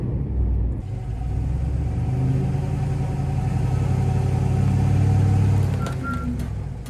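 A vehicle engine idles and gives a little gas while backing slowly up onto leveling blocks at a campsite, a steady close rumble that swells gently midway and then eases off.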